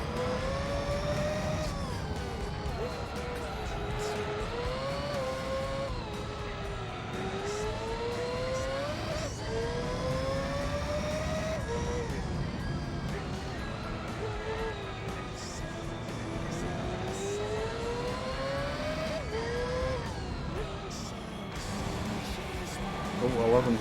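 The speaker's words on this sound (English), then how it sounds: "When it reaches those high revs. It's such a nice high pitch," Racing car in Gran Turismo 3 screaming at high revs, its engine pitch sweeping up and down through repeated gear changes, loud and continuous throughout with a person talking over it.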